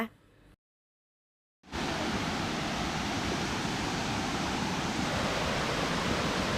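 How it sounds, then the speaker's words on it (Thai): At the Pha Taek waterfall in Khao Laem National Park, a loud, steady roar of falling water fills the air after a brief quiet gap, broad and unbroken to the end. "ในที่สุดเราก็เดินมาถึงน้ำตกผาแตกกันเป็นที่เรียบร้อยนะคะ"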